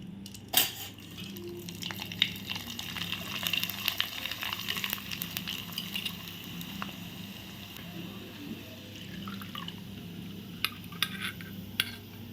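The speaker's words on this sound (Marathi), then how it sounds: "ही गाळणी मी तेलात ठेवून असा हा कीस तळून घेणार आहे" Grated potato shreds deep-frying in hot oil inside a metal strainer: a steady soft sizzle and bubbling, with occasional clinks of the strainer and someone speaking at times.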